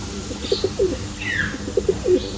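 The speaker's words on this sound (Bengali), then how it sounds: "এটা হচ্ছে জ্বালানি কবুতর বা বুনো কবুতর বলে যেটাকে আমরা চিনি" A wild pigeon coos nearby in two short bursts of soft, throaty repeated notes, with a faint higher chirp between them.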